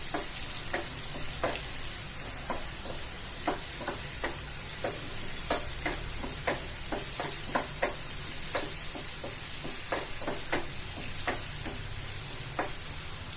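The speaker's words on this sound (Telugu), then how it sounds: "ఎర్రగడ్డ అనేది కొంచెం మగ్గాలండి, గోల్డ్ కలర్ రావాలి." Onions frying in a pan for ridge gourd curry, a constant close sizzle broken by regular scraping strokes of a spatula stirring them, with no talking.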